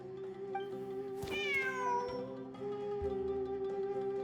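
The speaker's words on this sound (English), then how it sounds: "Wait, there it is! The cat!" A cat meows in Genshin Impact, one clear rising-and-falling meow heard near the middle over a steady hum of game background music, with no talk.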